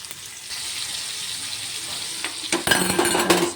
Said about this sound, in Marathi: छान असं परतवून घ्यायचं आहे